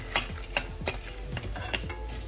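Okra is stirred and sautéed in a pan, with a spoon scraping and knocking against the metal in quick irregular strokes over a soft, continuous sizzle.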